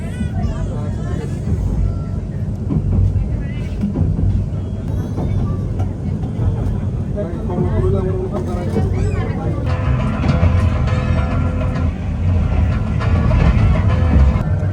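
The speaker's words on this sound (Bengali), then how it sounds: "আমরা কমলাপুর রেল স্টেশন পৌঁছে গিয়েছি" The Suborna Express from Chattogram pulls into Kamalapur railway station in Dhaka with a continuous heavy rumble and clatter, while crowd babble and nearby voices carry over the noise.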